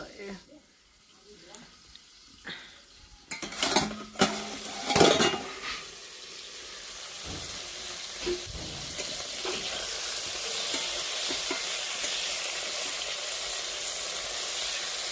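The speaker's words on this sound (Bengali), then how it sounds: "বেগুনের একটা বেগুনের চাক ভাজা করছি এখানে" Brinjal slices fry in a pan in a home kitchen, opening with clattering of utensils and a voice, then settling into a rising, continuous oily sizzle that holds steady to the end.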